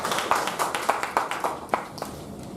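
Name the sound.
audience applause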